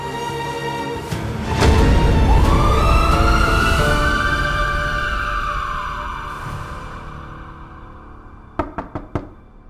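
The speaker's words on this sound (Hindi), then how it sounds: "जल्दी करो, एम्बुलेंस चलाओ।" A single ambulance siren wail rises and slowly falls over a low rumbling background, then a few sharp knocks follow.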